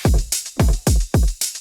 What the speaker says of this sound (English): Add another hat loop.